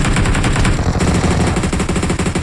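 Rapid automatic gunfire in the mobile battle royale game PUBG Mobile, a loud continuous burst of closely spaced shots with no pause.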